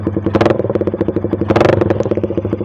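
Suzuki Satria FU motorcycle fitted with a DOS exhaust muffler, revved close up in two loud, rising bursts over a rough, crackling low idle.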